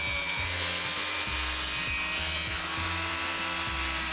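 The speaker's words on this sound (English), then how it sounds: "it's a felt pad on the Dremel" Dremel rotary tool with a felt pad buffing the wheels of a Hornby 0-4-0 model locomotive with metal polish, a steady close whirring drone with a pulsing low rhythm, running alone throughout.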